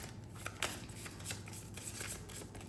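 Tarot cards shuffled by hand during a Hindi tarot reading, a steady close riffle of papery flicks and slaps with a few sharper bursts, no voice.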